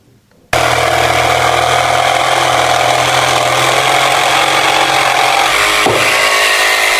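A Makita DJV181 cordless jigsaw starts abruptly and cuts through wood at high speed with the pendulum off, a loud, steady buzzing rasp that holds for several seconds with a brief dip near the end.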